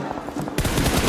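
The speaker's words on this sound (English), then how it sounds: "Look at the bullets keeping him suppressed." Sustained automatic gunfire from a PUBG Mobile esports grand final match, starting quieter then jumping louder midway into dense, rapid continuous bursts.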